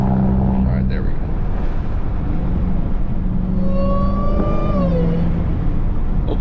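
A Dodge Hellcat drives through busy traffic, its engine giving a steady low rumble with a thin rising and falling supercharger whine on top. Someone talks over part of it.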